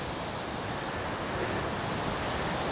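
A waterfall on the Presque Isle River in Michigan gives a steady, dense roar of rushing water that fills the scene at constant loudness, with no voices.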